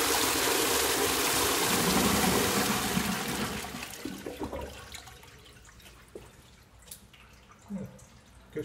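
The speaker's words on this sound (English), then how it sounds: "Good flush, really good actually." A Dudley Tri-shell cistern toilet flushes in the public toilets at Charlton Park, Greenwich, London: a loud, full rush of water for about three seconds that tapers off into trickling and dripping as the cistern refills.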